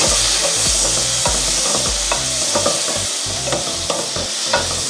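Tomatoes fry with browned onions in a pan, a continuous sizzle broken by repeated knocking scrapes of a spoon stirring rhythmically, close and clear with no talking.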